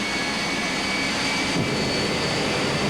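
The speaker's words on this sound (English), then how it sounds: "You can hear the turbines spinning faster and faster." A jet turbine engine fitted to a modified Peterbilt truck spools up, a loud, steady broadband roar with a high whine held throughout.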